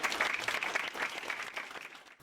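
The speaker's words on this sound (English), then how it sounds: "let's give a round of applause" A church congregation gives a sustained round of applause during a sermon, a steady wash of many hands clapping at moderate distance, tapering slightly at the end.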